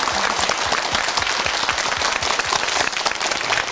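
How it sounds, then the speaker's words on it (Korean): Studio audience at a Korean broadcast television show applauds to welcome the hosts, dense continuous clapping close and loud for a few seconds, with no talking. "박수로 환영합니다."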